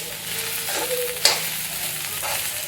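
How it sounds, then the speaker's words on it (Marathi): Okra (bhindi) frying in oil in a pan gives a continuous close sizzle, with a soft stirring scrape and one brief metallic clink partway through, and no talking. "हे बघा तेल घालून आहे ना परतून घेतली की पटापट सगळं सुटसुटीत होते भेंडी"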